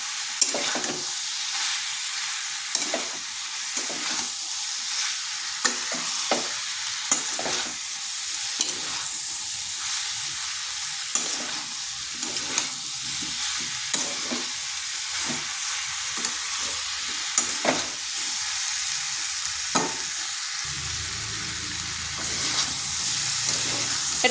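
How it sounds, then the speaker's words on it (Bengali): Pieces of young jackfruit sizzle in a pan with spices as they are stir-fried for a vegetarian curry, a continuous close hiss broken by repeated scraping and stirring knocks. "এঁচড়গুলো দিয়ে আবার কিছুক্ষণ কষে নিতে হবে"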